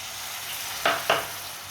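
Masala spices sizzle in a pan just after a little water is added while cooking a potato dish: a steady frying hiss broken by two sharp spitting bursts.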